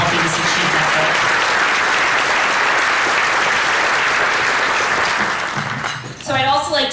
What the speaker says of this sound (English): if we could give them a round of applause for helping us achieve that goal.